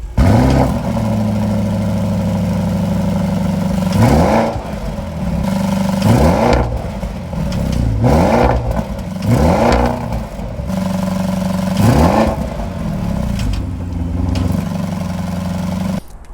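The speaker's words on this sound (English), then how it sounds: "let's take a listen to this exhaust and see what it sounds like" Audi RS Q8 performance SUV exhaust heard up close at the rear, idling steadily between about five sharp throttle blips that rise and fall in quick succession, loud and without talk.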